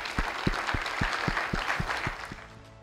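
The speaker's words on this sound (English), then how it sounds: "give one more round of applause for the AFROHUN for a well-organized event" Applause at the AFROHUN One Health conference: roughly eight sharp, spaced claps ring out over a steady wash of crowd clapping that fades toward the end.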